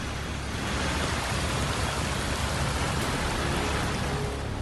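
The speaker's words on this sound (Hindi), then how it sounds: "भारी बारिश के बाद सड़क पर उमड़ा सैलाब।" Heavy rain pours onto a flooded road, a loud, unbroken roaring wash of water and drops that fills every moment without any voices or pauses.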